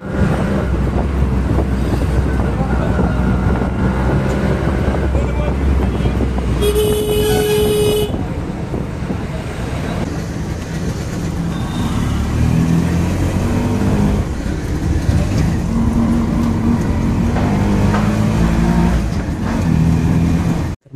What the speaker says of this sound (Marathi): आता बघूया इथून रिक्षा पकडून जाऊया